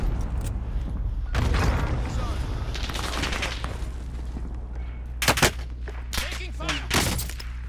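Bursts of automatic gunfire and heavy booms fill a Call of Duty: Modern Warfare match, with sharp volleys toward the end and a player's voice heard now and then under the shooting.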